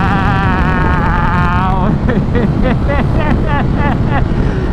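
A Ducati Streetfighter V4S motorcycle pulls hard in third gear, its engine note rising loud and close over heavy wind rush, with rapid upward sweeps as it revs, no talking heard.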